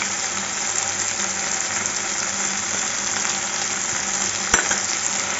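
Ginger-garlic paste fries in a pan for a mushroom curry, giving a continuous dense sizzle close by and evenly loud, with one brief sharp clink partway through and no talking.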